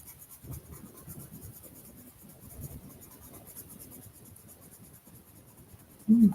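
Soft, steady scratching of colored pencils on paper goes on in short strokes, quiet and close, ending with a brief louder rub.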